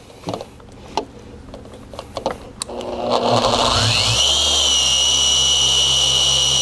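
A few light clicks and taps, then a polishing machine spins up on the paint of a Nissan 350Z, rising into a steady, loud buffing whine that holds to the end.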